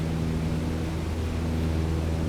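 Cessna 152 piston engine throttled back in Microsoft Flight Simulator, a steady, even drone with a low hum and broad noisy wash that holds constant throughout.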